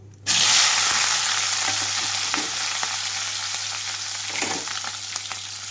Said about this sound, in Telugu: ఇవన్నీ వేగిన తర్వాత ఇందులోకి మిరపకాయలు వేసేస్తున్నాను